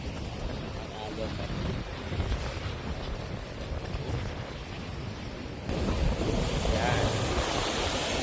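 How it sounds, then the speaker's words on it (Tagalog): Ocean surf rolls in at Banton Port, Romblon, on a windy afternoon, a steady wash that strengthens toward the end, with wind buffeting the microphone and a person talking over it. "Tignan niyo po ang alon."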